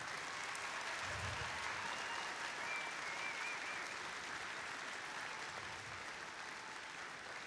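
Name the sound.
audience applause for volunteers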